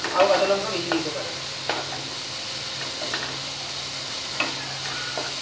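Masala sizzling steadily in hot oil in a pan while being stirred for Bhetki fish curry, with a constant close hiss and occasional scraping ticks of a spoon.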